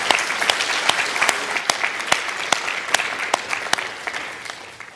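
A church congregation applauds together in steady, lively clapping with sharp individual claps standing out, filling the room near and loud, easing slightly toward the end.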